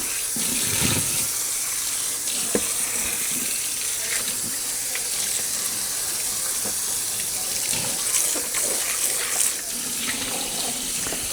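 Hot water runs from a kitchen sink tap in a steady, close splashing stream, with small clatters and knocks of dishes or hands moving in the basin.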